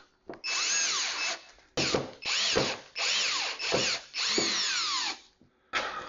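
A power drill drives a wall anchor into drywall in several whirring bursts with short pauses between, the motor pitch rising and falling with each squeeze of the trigger, loud and near.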